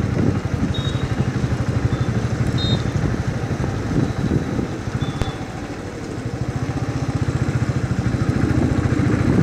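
A Royal Enfield Thunderbird motorcycle thumps steadily as it rides along a rough road on a windy, rainy day, its low single-cylinder beat running throughout with wind buffeting the microphone and no talk.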